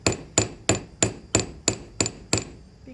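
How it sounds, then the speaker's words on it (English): Hammer striking metal at the forge, eight sharp ringing blows at an even, brisk rhythm, close and clear with no voices. "what I want to do is really get a nice hammered surface on it"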